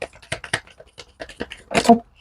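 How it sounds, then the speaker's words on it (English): Tarot cards being shuffled, a quick patter of short papery riffles that ends in a denser burst of card noise, close and fairly loud with no talk over it. "Last shuffle."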